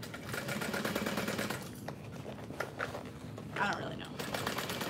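A domestic sewing machine stitches clipped backpack pieces in short, uneven bursts of motor whir and needle clatter, with some handling noise in between.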